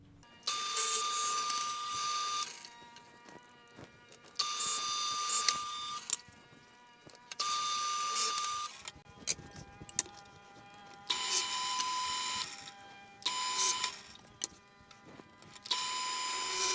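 A drill with a 5/8 inch Forstner bit bores recessed holes in a 2x4 for lag screws on a barbell rack, in several loud whirring bursts about two seconds long, broken by short pauses and clunks.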